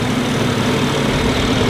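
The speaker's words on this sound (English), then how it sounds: "let's get a couple of sound clips of the stock intake" A Toyota Supra engine idling with its stock intake, a steady, loud low rumble with even harmonic throb held throughout, no talking.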